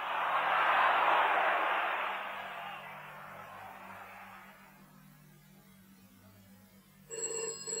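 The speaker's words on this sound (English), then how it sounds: "There's the phone." A telephone bell starts ringing near the end, sharp and clear, after a fading wash of background noise with no one speaking.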